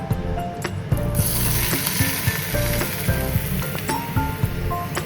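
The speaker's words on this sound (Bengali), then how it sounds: "এই মাখানো চিকেনটার উপরে আমি এখন দিয়ে দিব এই গরম গরম তেল" Hot oil poured over marinated chicken for momo hisses and sizzles loudly and continuously, with small crackles and spatters throughout.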